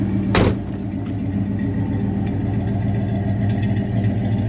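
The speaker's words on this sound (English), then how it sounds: "Let's get the back door closed." A single solid thud of the back door shutting on a 1961 Chrysler Imperial LeBaron, heard near and early, followed by the steady low rumble of the car's engine idling.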